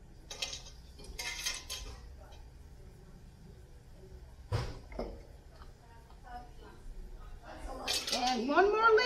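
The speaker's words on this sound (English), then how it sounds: "And one more lid. And we're ready to cap our jars off." Metal lids set onto glass jars of pepper jam in a home kitchen, giving a few light clinks and taps spread out between quiet moments, with some louder handling clatter toward the end.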